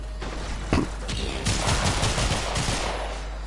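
Charge-shot gunfire from the character Mesa in the video game Warframe, sounding as loud, dense bursts of rapid shots that crackle close and steady through the moment.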